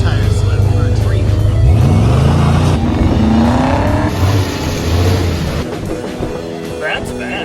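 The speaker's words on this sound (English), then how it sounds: "You can have a little tire slip for a treat." A 1968 Dodge Charger, back on the road after 29 years, revs loudly with a rising engine sweep and a brief tire slip, close and continuous, with people talking over the noise.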